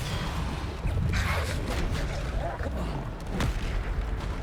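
Bombarda spell explosions in the Hogwarts Legacy video game, a dense run of low booming blasts with crackling bursts over continuous loud battle noise, no pauses between hits.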